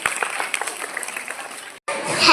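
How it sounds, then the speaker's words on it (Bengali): An audience claps for children after a short Teachers' Day school play, a brisk burst of clapping under crowd noise that breaks off abruptly, followed by a different louder, brighter sound. "চলুন আমরা সবাই মিলে হাততালি দিয়ে তাদের অভিনন্দন জানাই"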